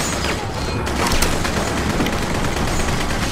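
Dense gunfire in the game The Punisher, rapid overlapping shots and bursts in a loud continuous barrage.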